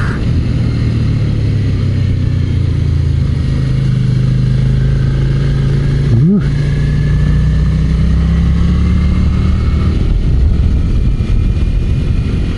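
A motorcycle ridden uphill on a rough, bumpy mountain skyline road, its engine droning loud and steady up close with constant wind and road rumble, a brief rising shift in pitch midway, no talk.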